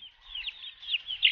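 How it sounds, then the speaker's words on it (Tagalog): Chickens on a provincial farm make faint, high chirping peeps and clucks in a quick, uneven series with no voices heard. "Mga manok."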